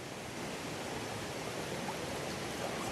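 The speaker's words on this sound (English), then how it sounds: "This is the creek right next to my campsite" A mountain creek beside a campsite on the Mountains to Sea Trail rushes steadily, a constant broadband wash of flowing water with no voices.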